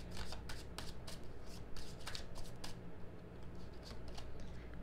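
Tarot cards being shuffled and drawn: quiet, steady riffling and flicking of the deck close by, with soft rapid slaps running through the whole stretch.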